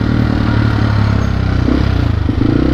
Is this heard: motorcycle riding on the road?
yes